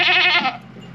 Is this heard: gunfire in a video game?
no